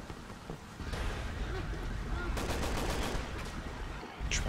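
Gunfire in the video game Resident Evil 6, with bursts of shots cracking over a dense, noisy game soundscape.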